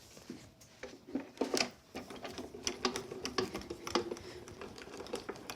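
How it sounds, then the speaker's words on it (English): An embossing folder sandwich is cranked through a manual die-cutting and embossing craft machine, producing close, irregular clicking and ratcheting taps with small knocks at an uneven rhythm against a quiet room. "So I'm going to run that through with the embossing sandwich first."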